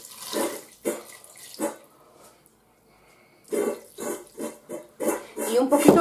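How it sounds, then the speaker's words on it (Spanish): Water is poured in short bursts into a cooking pot holding pinto beans and a cut pig's tail, splashing and gurgling nearby with a brief pause midway, the pours quickening toward the end. "le voy a echar un poquito de agua,"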